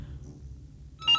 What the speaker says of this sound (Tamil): Sir phone.